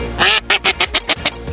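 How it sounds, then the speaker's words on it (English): A duck quacks in a quick run of about eight short, nasal calls, loud and close, with no talking. "Duck."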